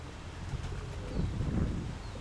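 A pigeon with a yellow leg ring coos softly as it lands in a loft, the low murmuring faint and close against steady wind noise over about two seconds.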